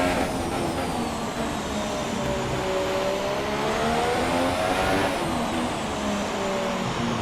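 Formula 1 race car engine in F1 2017 at the Mexico round, a steady high-pitched whine with climbing and dropping revs through shifts, loud and sustained throughout.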